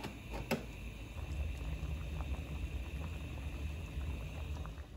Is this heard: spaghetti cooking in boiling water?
yes